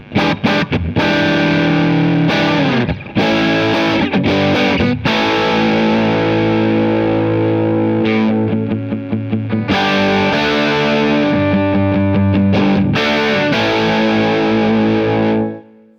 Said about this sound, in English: can hear I'm driving the amp quite hard there now